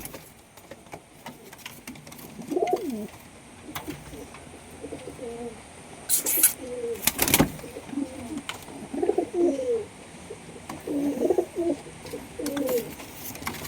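Pigeons coo repeatedly in soft, low rumbling phrases, with a few sharp clattering bursts partway through.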